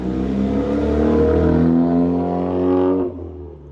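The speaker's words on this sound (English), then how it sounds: "sorry for the car in the background" A car passes in the background, a smooth rising whoosh of engine and tires that swells, holds, then cuts off abruptly near the end, heard alone without talk.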